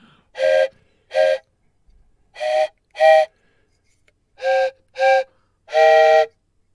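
A loud, close whistle sounds seven short blasts in separate bursts with pauses between them, moving between two musical pitches.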